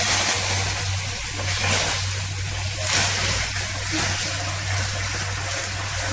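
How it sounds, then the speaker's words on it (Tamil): A continuous rushing, sizzling wash of water poured slowly into a hot pan on a switched-off stove, steady and close, with a low hum underneath. "நான் அடுப்பை ஆஃப் பண்ணிவிட்டு தண்ணி ஊற்றிக்கிறேன்"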